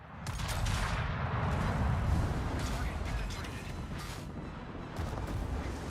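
An American battleship's guns fire in the video game World of Warships, with deep booming salvos and rumbling mixed with battle noise and players talking over it.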